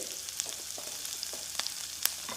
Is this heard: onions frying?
yes